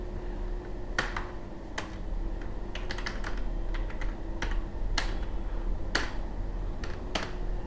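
Computer keyboard keys clacking as someone types Oracle SQL code, with irregular bursts of crisp keystrokes over a steady low hum and no talking.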